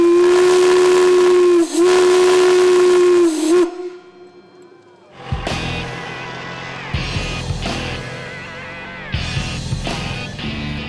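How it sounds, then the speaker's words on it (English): A big steam engine whistle at a fair blows one loud, long, steady shriek up close, then breaks off into hissing steam and uneven chuffing bursts from the engine. "It's got a big whistle on it, and we'll blow the whistle."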